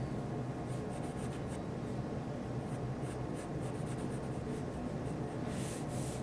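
A pencil moves lightly across paper with continuous soft scratching, interrupted by faint, slightly brighter strokes. It sits over a steady background hiss, and no one speaks.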